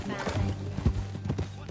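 Horse hooves clip-clop at a steady riding pace in Red Dead Redemption 2, close and moderately loud, with voices talking over the hoofbeats.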